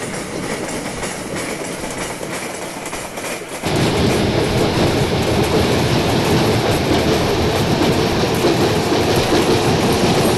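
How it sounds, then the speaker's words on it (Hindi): The Ahmedabad to Chennai AC Double Decker Superfast Express, hauled by a WAP-5 locomotive, rolls along the rails. A quieter rumble swells suddenly into a loud, continuous roar with clattering wheels on the tracks. "22625 AC double decker superfast express is scheduled to depart from platform number"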